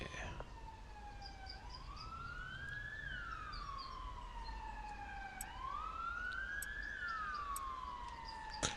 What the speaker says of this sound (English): We are a little bit far out here in the farm to be hearing cop sirens, aren't we?